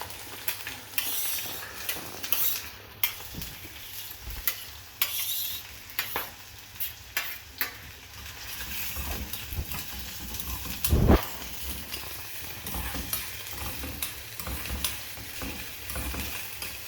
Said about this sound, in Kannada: ನೆಕ್ಸ್ಟು ಅದು ಕಾದಿರೋದ್ಮೇಲೆ ಈರುಳ್ಳಿ ಹಾಕಿ.